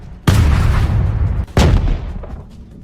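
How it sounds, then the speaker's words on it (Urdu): Two heavy cannon blasts from the siege of Istanbul boom out about a second apart, each a loud, sharp burst that fades into a rumbling tail. "21 اپریل کو توپوں کا بڑا حملہ کیا گیا جس کے باعث دیواروں کو خاصا نقصان پہنچا"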